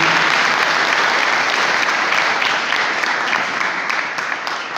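A crowd applauding loudly, dense continuous clapping that holds steady and begins to ease slightly at the very end.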